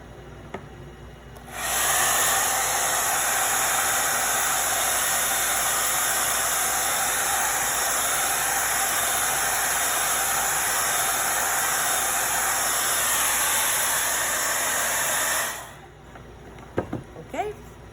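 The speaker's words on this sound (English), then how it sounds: "I'm gonna grab my blow dryer and just hit it real quick." A hair blow dryer drying paint on a pumpkin gnome craft: a loud, steady close hiss and whir that switches on, runs evenly for about thirteen seconds, then shuts off, followed by a few small handling clicks.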